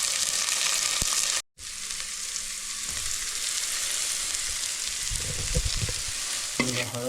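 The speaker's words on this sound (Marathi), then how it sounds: "हळद, लाल मसाला टाकून परतवून घेतला कांद्यामध्ये" Turmeric and red masala stir-fried with onions in a pan for a Konkan black crab curry: a steady, close sizzle with scraping stirs, broken by a brief moment of silence early on.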